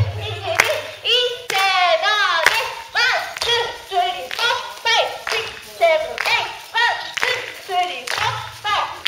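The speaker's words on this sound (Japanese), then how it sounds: "皆さん、ちょっと手拍子をお願いします" An audience claps along in steady rhythm on a Japanese talk show, sharp regular hand claps repeating under lively voices that talk and call out over them.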